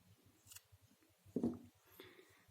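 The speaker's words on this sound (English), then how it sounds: "Now I will cut this yarn." Scissors cutting crochet yarn, one faint quick snip in a quiet room with light handling sounds around it.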